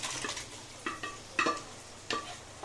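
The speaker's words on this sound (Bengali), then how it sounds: "এবার এর মধ্যে আমি ডাল লাউটা সেদ্ধ করা দিয়ে দেবো।" Boiled gourd and lentils go into fried spices in a pan and get stirred, producing soft, faint sizzling and a handful of separate scraping stir strokes that come at an uneven pace, with no one speaking.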